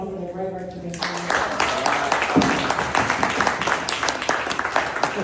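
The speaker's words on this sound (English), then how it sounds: "A round of applause for everyone for the great work you've been doing." An audience at a relaunch celebration breaks into applause after a speaker's voice, with clapping building quickly and continuing, fairly loud and dense.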